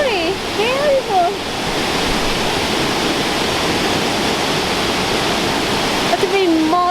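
Mila Falls waterfall roars as a steady, loud broadband rush of falling water throughout, with voices talking briefly over it at the start and near the end.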